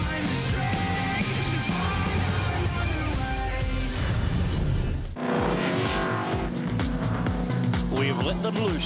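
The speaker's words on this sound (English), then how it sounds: "The Utes are on track at Hidden Valley in Darwin on their warm-up lap for race 2" V8 Ute race cars circulate on a warm-up lap at Hidden Valley in Darwin, engines droning loudly with a car passing close and some tire squeal, under a commentator's voice.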